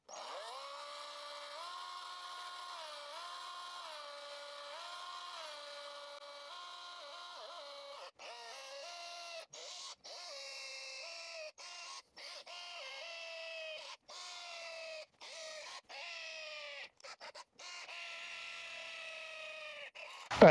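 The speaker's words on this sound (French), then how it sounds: "elle a réussi à percer du 8, nickel, on va aller un peu plus loin" Parkside PBHA 12 A1 cordless SDS-plus rotary hammer drilling into metal with an 8 mm Parkside metal bit, a steady high whining motor hum that shifts pitch and stutters with brief stops toward the end.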